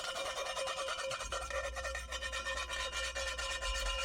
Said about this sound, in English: we finished it off with the hand file on the inside of the conduit, just to give it that factory edge.